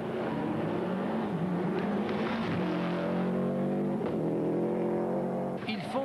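Subaru rally car pulling away at the start of the final special stage of the 1995 Catalonia Rally, a sustained, rising engine drone with gear changes, heard at moderate level under a mix of other sound.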